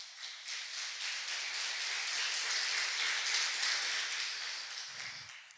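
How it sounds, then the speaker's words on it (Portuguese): Steady applause from a group in a religious podcast setting, moderately quiet and sustained for several seconds, easing slightly near the end. "Agora eu quero um aplauso para o Senhor."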